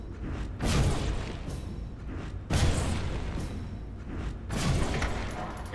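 Three flourish spells are cast in the video game Fable 3, each a sudden booming magical blast with a whooshing burst that fades into a rumbling tail, evenly spaced.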